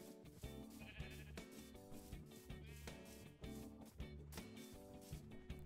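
Sheep bleating in the video game Minecraft, several short repeated bleats over a busy backdrop of game music and effects, at moderate loudness.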